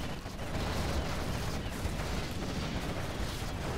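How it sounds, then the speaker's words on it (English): Quad cannons fire in a video game battle, a dense, continuous rattle of rapid shots and booms blending into a steady roar at moderate loudness, with no speech. "those quads just don't stand a chance against those quad cannons by Hamster."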